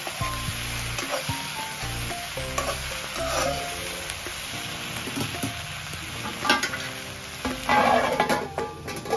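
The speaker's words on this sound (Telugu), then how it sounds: "కలుపుకొని ఒక 5 మినిట్స్ సిమ్లో పెట్టుకొని ఫ్రై చేసుకోవాలి" Okra with turmeric fries in a pan with a continuous loud sizzle, while a utensil stirs and scrapes it in irregular strokes that grow busier toward the end.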